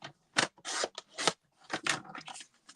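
Scissors cut cardstock for card making in a string of quick, close, crisp snips and slices with short pauses between them.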